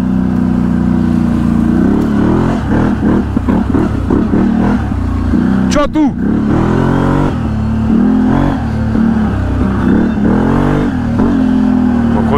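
A car engine revs hard and loud, its pitch rising and falling through repeated accelerations with a sharp sweep near the middle, heard close from inside the car, with a brief spoken question.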